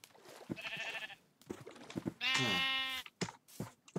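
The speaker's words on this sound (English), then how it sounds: "There's a gray sheep." Minecraft sheep bleat in the game, a couple of nasal, wavering baas close by, one short and one longer and louder, among small clicking game sounds.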